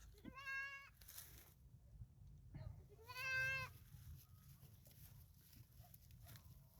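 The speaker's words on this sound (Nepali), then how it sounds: "प्रयास जारी छ दुईटा बाख्राको यहाँ" Two goats bleat in short wavering cries, two distinct calls a few seconds apart, close by, with faint rustling and low background noise as they work at eating an orange.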